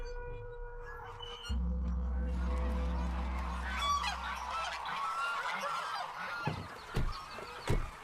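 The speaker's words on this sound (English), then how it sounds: "This is China's largest goose, the lion-head goose." Lion-head geese, China's largest goose breed, honk loudly and repeatedly at a poultry farm, with a steady low drone beneath early on and sharp separate calls toward the end.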